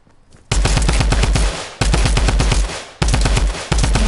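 A Tommy gun in a video game fires three loud, close bursts of rapid automatic shots, each lasting about a second, with brief pauses between them.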